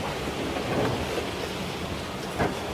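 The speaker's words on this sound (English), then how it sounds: "Starts to rain, no?" Rain beginning to fall outdoors, a dense steady patter and rush across the whole clip with no voices.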